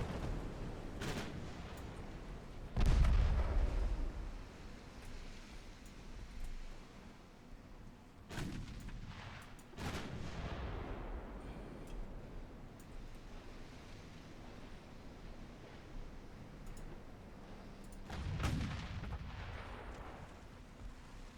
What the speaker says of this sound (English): Give me a firm broadside, please.